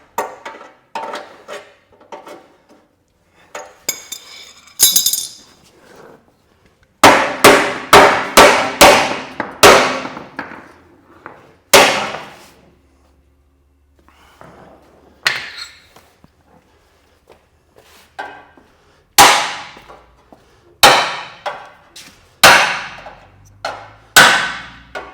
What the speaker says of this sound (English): Heavy hammers, lots of work.